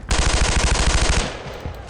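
Machine gun fire in the World War II shooter Brothers in Arms: Earned in Blood, a rapid burst of about a dozen close, loud shots lasting just over a second, followed by a fading echo tail.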